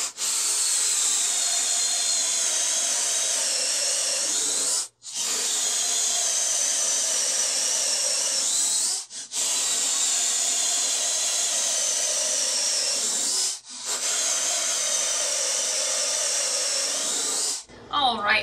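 A high-pitched whining drill with a 1.5 inch hole saw cutting into a scrap wood board in four long bursts, each several seconds, separated by brief pauses, close and steady.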